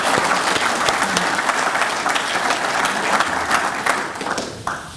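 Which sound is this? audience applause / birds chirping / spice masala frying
audience applause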